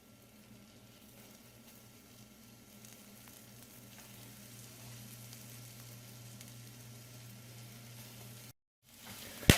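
Beaver liver frying in butter in a pan, a steady quiet sizzle with a low hum underneath, briefly cutting out before a louder crackle at the end.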